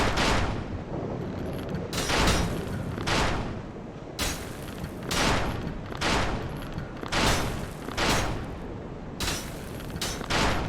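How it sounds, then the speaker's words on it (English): Enemies firing guns in Dark Souls, loud volleys of gunfire in bursts roughly every second or two, with dense booming reports and brief lulls between salvos. "Wait for them to stop shooting."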